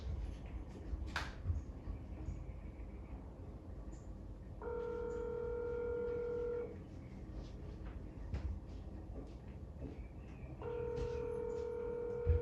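Telephone tones sound while a call is being made, two separate steady multi-tone bursts of about two seconds each with a gap between them, over faint room noise and scattered knocks.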